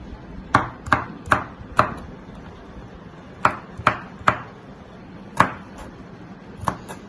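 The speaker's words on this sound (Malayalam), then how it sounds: "ഇപ്പൊ നമ്മൾ മുളക് അരിഞ്ഞു." Green chillies are chopped with a knife on a cutting board. Sharp, distinct knocks sound close by: four in quick succession, a pause, then three more and a final chop.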